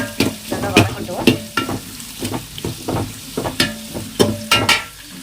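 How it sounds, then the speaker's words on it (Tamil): Biryani base sautéed in a pan until golden brown: loud, rhythmic scraping and stirring strokes over a steady close sizzle, with no talking. "நல்லா பொரிஞ்சு ஒரு ப்ரௌன் கலரில் வரணும், ஒரு பொன் கலரில் வரணும்"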